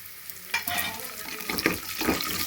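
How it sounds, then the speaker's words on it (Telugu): Fresh curry leaves frying in a pan for a fenugreek-leaf tomato dal, a close crackling sizzle with bursts of stirring scrapes. "ఇలాగ దూరగా ఫ్రై చేసుకున్నాక కరివేపాకు అయితే వేసుకోవాలండి"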